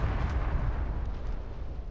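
Dense, continuous rumbling blasts and booms from a desert tank-warfare video game featuring a German Marder IFV, filling the whole moment at steady, fairly loud level with no talk over them.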